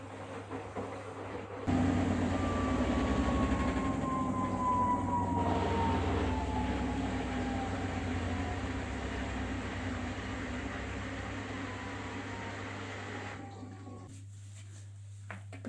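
A Gorenje WNGPI72SBS washing machine running its 1200 rpm spin cycle, a loud steady whirring hum with a falling whine that cuts off near the end as the drum winds down.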